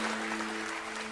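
Audience applause fills a stand-up comedy show, a dense steady clatter of many hands clapping at moderate loudness for the whole moment, with no voices over it.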